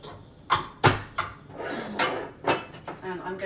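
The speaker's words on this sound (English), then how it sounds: "I'm going to use the whisk attachment. Okay, so I'm going to put that on" Metal whisk attachment clanking onto a stand mixer while making banana bread batter: a few sharp clinks and knocks, close and fairly loud, with some handling rattles between them and no talking.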